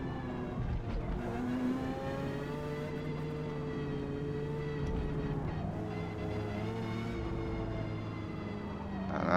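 Mazda RX7 engine in Forza Motorsport at Yas Marina, braking hard and downshifting to first gear, a steady tonal engine whine that dips and rises again as revs change, heard alone and close.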